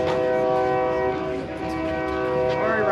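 A train horn sounds loud and sustained with rich steady tones, while rail cars rumble beneath it in a mountain town setting.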